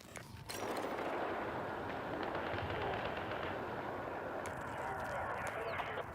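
SMG gunfire in the video game Battlefield 6, a burst of rapid cracking shots at the start followed by more scattered shots near the end over a steady battlefield din.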